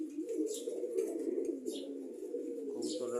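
Pigeons cooing steadily and close by in a loft, a continuous layered murmur of low throaty calls with a few faint higher chirps above, no talk.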